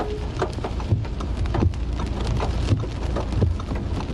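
Heavy rain pours steadily, a dense roaring hiss of drops pattering on surfaces, loud and close, with no voices.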